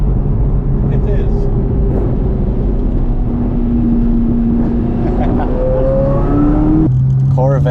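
A Corvette Z06's deep, steady engine rumbles throughout, its pitch climbing as it revs higher toward the end, loud and close.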